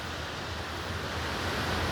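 Clear river water flows at the edge of the river on a quiet morning, giving a soft, even rushing wash that is moderately loud and steady, with no talk.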